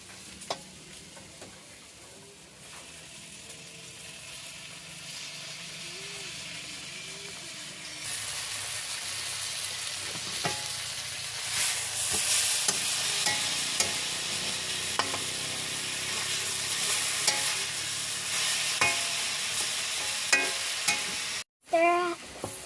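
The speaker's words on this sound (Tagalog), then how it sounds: "Dito ko na rin po ginigisa sa ginigisahan ng karne." Meat being sautéed with oyster sauce in a pan, starting as a soft sizzle with scraping stirs, then turning to loud, steady frying hiss with clinks of a spatula before cutting off.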